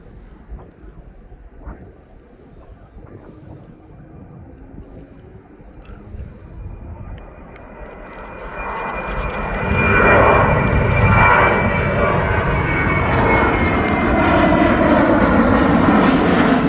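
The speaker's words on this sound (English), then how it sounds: "Here comes that Jet 2 now." A Jet2 jet airliner at East Midlands Airport approaches, its engine roar building from a faint distant whine into a loud, broad, steady rumble that holds to the end.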